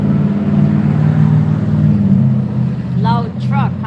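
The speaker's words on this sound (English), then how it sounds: "Loud truck, huh?" A loud truck passing close by, a heavy droning engine rumble that swells and then eases, with a voice speaking briefly over it near the end.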